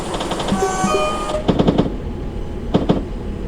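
A British Rail Class 47 diesel train passes at a station, giving a rhythmic clickety-clack of wheels over rail joints. A whining tonal hum and engine drone sit underneath, fairly close.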